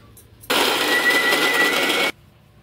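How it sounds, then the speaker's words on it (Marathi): A mixer grinder runs on chopped ginger with no water added, a loud, steady whirring grind that starts abruptly, holds for about a second and a half, then cuts off into near silence. "आता हे मिक्सरला मी फिरवून घेते।"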